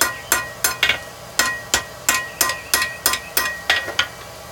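Hammer planishing hot steel on an anvil while forging hammer-eye pick-up tongs, about a dozen sharp ringing blows in a steady, slightly uneven rhythm, close and clear.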